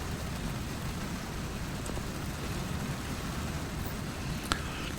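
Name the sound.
rain falling at a highway rest area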